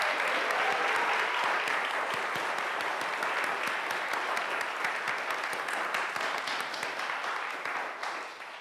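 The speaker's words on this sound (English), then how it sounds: "Can I hear a round of applause for..." A congregation at a Sunday service applauding volunteer musicians, steady dense clapping from many hands that holds for several seconds and gradually thins toward the end.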